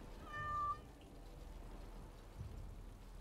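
Cat meowing in the fantasy role-playing game Dragon Age: Origins – Awakening, a single short, clear, tonal meow near the start, followed by quiet ambient background.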